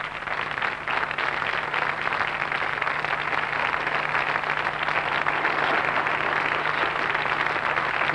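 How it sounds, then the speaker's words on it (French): An audience applauding Madame Jarre on a television tribute show, a dense, continuous wash of clapping from a large crowd that stays steady and loud throughout. "Je peux applaudir Madame Jarre."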